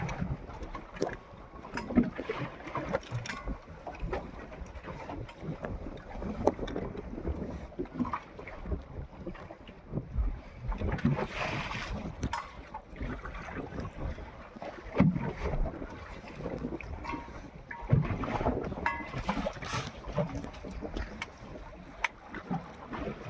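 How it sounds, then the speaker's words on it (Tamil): Wind gusts buffet the microphone on a fishing boat far out at sea, a steady roaring rush with swelling, rumbling bursts, and no voices heard. "காற்று"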